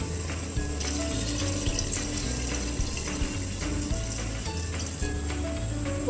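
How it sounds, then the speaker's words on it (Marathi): Water is poured from a cup into rice for biryani, two cups of rice with three of water, giving a splashing, trickling flow with small clinks and a faint sizzle underneath, heard close up. "2 कप तांदळासाठी 3 कप मी इथे पाणी घेतलेलं आहे ते टाकूयात आपण"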